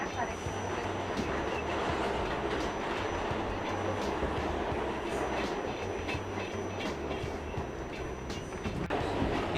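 A New York subway train on the 2 line passes in a Manhattan station, a loud continuous rumble with rhythmic clickety-clack of wheels over rail joints and a faint high whine, with voices faintly beneath.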